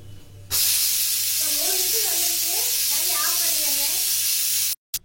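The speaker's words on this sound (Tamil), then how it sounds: "மூடி போட்டு விசில் போட்டு 3 விசில் வரணும்." Loud, continuous hiss of steam escaping a pressure cooker's whistle while cooking mutton biryani, starting abruptly and holding steady for several seconds before cutting off.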